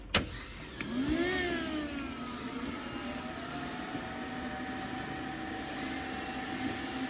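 A crypto mining machine hums steadily with a constant whine and fan-like drone, fairly quiet, after a brief click and rising tone as it powers up.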